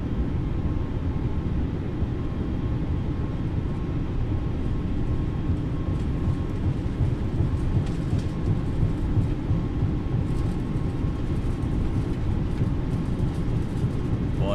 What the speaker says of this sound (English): And she takes a little bit of time to get up to speed, but she's rolling.